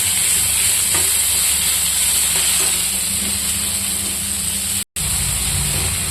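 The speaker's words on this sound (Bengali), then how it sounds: "এটি আমি একটু ভাজা করে নামিয়ে নেব" Onion frying in a pan gives off a loud, continuous sizzle and hiss with faint stirring, broken by one brief dropout near the end.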